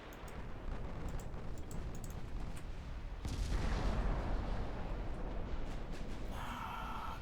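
Naval artillery fire in the Ultimate Admiral Dreadnoughts warship game: a dense, continuous roar of distant gun salvos and rumbling booms. Around the midpoint it swells louder, and a brighter hiss comes in near the end.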